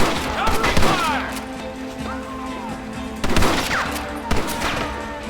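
Repeated gunfire in the Western game Red Dead Redemption during a push on a village, loud bursts of shots spaced through the stretch with crashing impacts, and voices shouting over the fighting.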